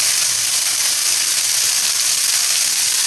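Potatoes fry with neem leaves in a hot pan, giving a loud, steady, dense sizzle and hiss that runs without a break, with no voices.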